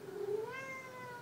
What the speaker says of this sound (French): il y a mon chat qui miaule.